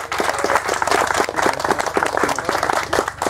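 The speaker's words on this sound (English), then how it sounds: "can we give a warm welcome, round of applause to Mr." An audience gives a speaker a warm welcome with loud, close, continuous clapping from many hands at an event about a roller coaster.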